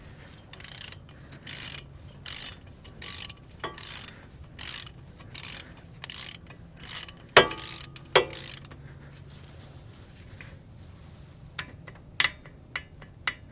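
Ratcheting clicks as a wrench tightens a brake caliper screw on a Chevrolet Sonic front disc brake to 80 inch-pounds, with bursts of rapid ticks, a couple of sharper clacks midway and a few faint clicks near the end.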